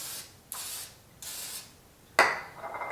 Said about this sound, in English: I'm just going to spray them with Pam to prepare them, so that way they don't stick when you turn them over onto your plate.